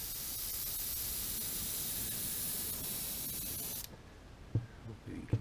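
Airbrush spraying a thin coat of paint onto a perch-pattern fishing lure, a steady close hiss of air and paint that stops abruptly near the end, followed by a few faint handling knocks.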